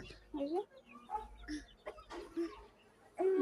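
Chickens cluck and murmur in short bursts close by as they eat paddy grain, with a quiet voice talking softly underneath.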